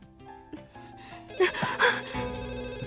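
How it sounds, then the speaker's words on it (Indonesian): A telephone rings in a scene from an Indonesian TV drama, with a bright, jangling burst of rings rising over soft background music. "Angkat telepon itu."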